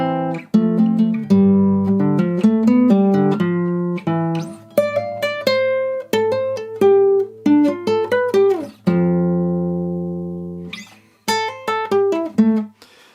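Solo guitar in standard tuning plays the opening line of the Hearthstone main theme: clean plucked notes and chords with hammer-ons, ringing sustains and short pauses, close and alone with no talking.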